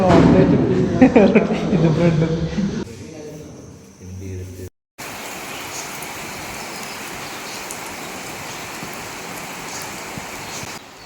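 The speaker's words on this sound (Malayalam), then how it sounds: "ഇതാ നല്ല ഹെവി മഴ തുടങ്ങി" A person talks briefly in Sri Lanka, then steady heavy rain takes over, a broad continuous hiss of water falling for several seconds.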